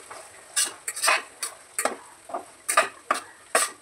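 Spinach stirred in a cooking pan for palak paneer, a spoon scraping in quick, regular strokes about once or twice a second, close and moderately loud, with no talking.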